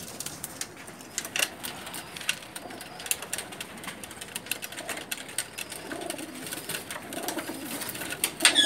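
Pigeons flap and scuffle in a new net, frightened, with dense bursts of wing flutter and faint coos rising and falling close by.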